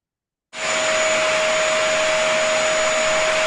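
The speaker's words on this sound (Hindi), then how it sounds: "It is vacuum." An indoor guessing-game recording of a vacuum cleaner that switches on abruptly and runs at full power with a loud, steady whooshing roar and a constant high whine, with no voices.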